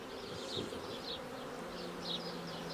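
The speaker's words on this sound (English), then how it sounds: "Nicely get the bees off here." Bees buzz close by on a farm in a soft, steady drone, with the hum swelling and fading as individual insects pass.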